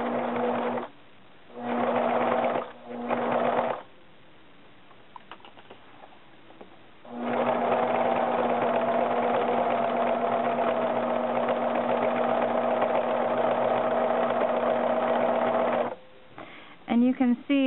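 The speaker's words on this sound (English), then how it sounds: "I'm letting the machine do the work, because it's a thicker fabric and it needs to take its time to work the needle through the fabric" A sewing machine stitches thick fabric for a wrap skirt in short bursts, then in a long steady run, its motor humming up close at an even pace, with a few quiet pauses between runs.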